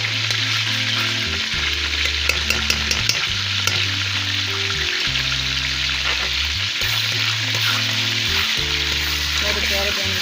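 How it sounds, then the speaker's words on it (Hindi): Garlic-ginger paste hits hot oil in a pan for a fried dal mash and sizzles loudly and steadily, with the clinks and scrapes of stirring on top and no voices. "सबसे पहले ये लहसुन अदरक का पेस्ट शामिल कर लूँ।"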